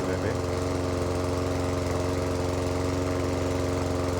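A small petrol engine, freshly filled with new oil and petrol, runs steadily after being pull-started, with a loud, constant rapid chugging hum close by and no pauses.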